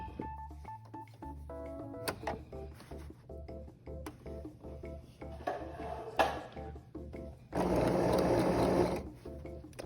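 A sewing machine stitches a boat hem on a pant leg in short, uneven bursts with clicks and handling noises between them, ending in one longer, steady run of stitching, close by.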